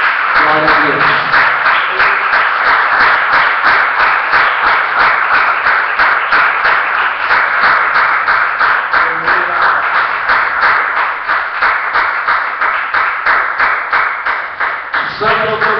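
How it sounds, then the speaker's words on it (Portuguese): Church congregation clapping together in a steady, loud, continuous rhythm, with singing or voices carrying over it throughout. "Vamos aplaudir o Senhor Jesus bem forte, irmãos."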